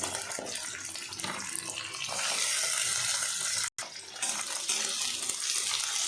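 Onion pieces and beans hitting hot oil in a pan, a steady loud hiss that stays dense and broadband throughout, with a brief drop near the middle before the crackle resumes.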